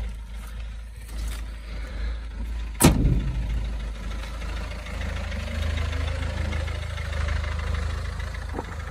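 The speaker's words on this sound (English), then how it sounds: "it starts getting like really, really rattly when you've had it running for a while" An idling Citroen Berlingo van engine with a rattly fault keeps up a steady low rumble throughout, broken by one sudden loud knock or bang partway through.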